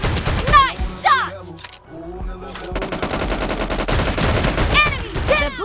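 M1014 shotgun fire in PUBG Mobile team deathmatch, a series of loud, punchy blasts spread across the clip and mixed with game sounds and chirpy effects.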